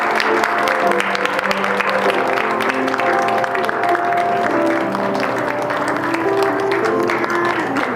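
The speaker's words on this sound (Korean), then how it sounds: "우리 박수로 크게 축하해 주시면 감사하겠습니다." A church congregation applauds in celebration, dense, loud, continuous clapping sustained for several seconds, with a faint musical tone underneath and little talk.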